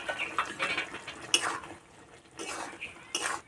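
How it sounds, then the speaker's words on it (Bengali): Cauliflower curry being stirred in a cooking pan, with a spoon scraping and clinking against the metal in a few soft bursts, near and fairly quiet, with no one talking. "একবার নাড়াচাড়া করে নামিয়ে দেবো।"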